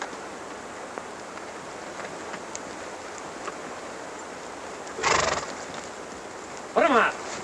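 Horses in an old Western setting, with faint hoof clatter under a hissing background and two short, loud whinnies breaking out near the end.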